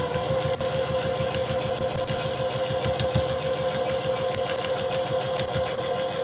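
A sewing machine stitching a quilt block seam, a steady close rapid mechanical whirring and ticking that runs continuously without a break.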